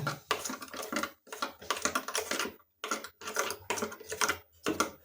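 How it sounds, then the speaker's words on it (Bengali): A spoon stirs mustard paste with mustard oil for vegetarian begun paturi, giving uneven bursts of clinking and scraping against the bowl, separated by short pauses. "এটাকে ভালোভাবে চামচ দিয়ে ঘুটে নেব"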